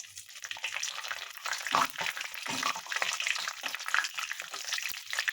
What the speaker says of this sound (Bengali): এবার তেলটা গরম হয়ে গেছে, আমি তেজপাতা, গরম মশলা আর এই 3টে শুকনো লঙ্কা ফোড়ন দিলাম।